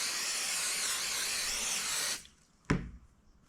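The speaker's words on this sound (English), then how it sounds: "I'm going to use a little of this 505 spray." 505 adhesive spray hissing onto fabric in one long steady burst that cuts off, followed by a brief thump.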